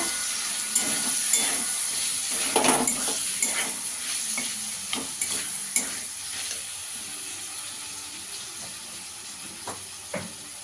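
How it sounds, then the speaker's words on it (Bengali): Capsicum and chopped onion frying in a pan for chicken fried rice, a steady close sizzle with repeated clicks and scrapes of a spatula stirring, no voices. "ক্যাপসিকামটা দিয়ে ভালো করে ভেজে নেব।"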